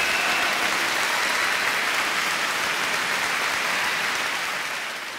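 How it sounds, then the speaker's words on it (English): An audience at a gala applauds steadily in a dense, even wash of clapping that holds for several seconds and begins to fade toward the end. "Go ahead. Applaud yourself."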